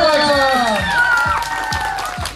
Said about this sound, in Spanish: A Flor Anneli, un fuerte aplauso